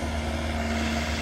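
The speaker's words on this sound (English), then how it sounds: "that is one of those forklifts I was talking about." A noisy, raw-sounding forklift engine runs steadily in the background at a machinery auction yard, a continuous low hum with a faint whine lasting throughout.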